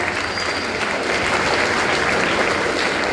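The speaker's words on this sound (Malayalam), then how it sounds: "ഒന്ന് കൈയടിച്ചു എല്ലാവരും" A crowd claps steadily and loudly throughout, dense applause filling the whole stretch without pause or talk over it.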